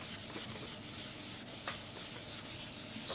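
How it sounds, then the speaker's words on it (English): A clean tissue rubbing graphite across the back of a paper illustration, a soft continuous scrubbing with gentle back-and-forth strokes, quiet and close. "if I simply take a piece of clean extra tissue and rub it in"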